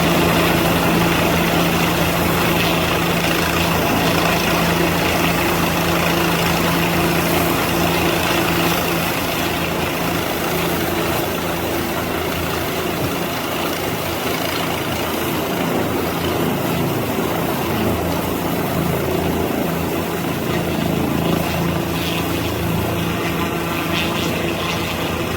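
A helicopter engine runs continuously during an Antarctic base resupply, a loud, steady whine and rumble with a low drone that holds throughout, no voices.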